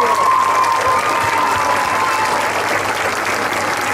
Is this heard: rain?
no